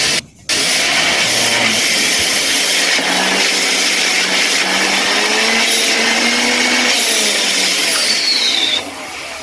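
Homemade vacuum cleaner built from a blender's universal motor, sealed up, running at full speed with a loud, steady high-pitched whir and roar close by from start to finish, cutting off just before the end.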